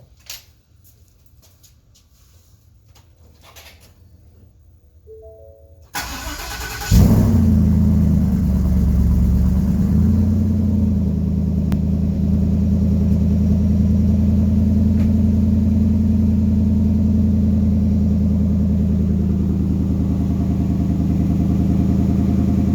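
A 2015 Ford F-150 with a 5.0 twin-turbo kit sits quiet on a cold night, then cranks briefly and fires up, settling into a loud, steady rumbling idle that continues to the end.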